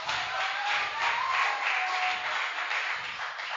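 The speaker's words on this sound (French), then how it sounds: "On applaudit très fort pour ça" Sustained audience applause fills a church, a dense steady wash of many hands clapping at even loudness throughout, with no voices standing out.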